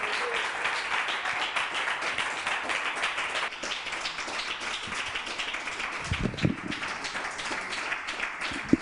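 Moderate applause for jury members at a reading event, a steady wash of clapping that carries on throughout, with a few sharper hand strikes and thumps toward the end.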